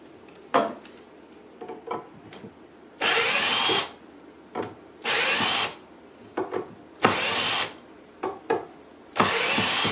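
Power drill unscrewing hinges from a wooden cabinet door on a workbench, four loud whirring bursts separated by quieter clicks and clatter of handled hardware, close by.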